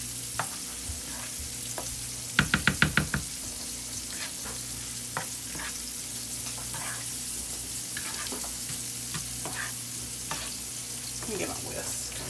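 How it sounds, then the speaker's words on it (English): Casserole ingredients with parsley and a packet of onion soup mix being stirred in a bowl, soft scraping and mixing sounds with a brief burst of quick clinks from the spoon near the middle. "Stir all this up."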